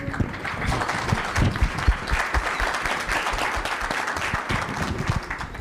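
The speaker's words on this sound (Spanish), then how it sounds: "Juan y Munir, démosles un aplauso" An audience at a financial congress panel on fixed and variable income claps for the panelists, a close, crackling burst of many hands that keeps going evenly for several seconds.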